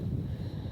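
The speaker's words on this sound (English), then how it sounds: "excuse the wind, it's a little windy here this morning" Wind buffets the microphone with a steady low rumble, loud and close, no voices present, outdoors in the morning beside a stone crusher.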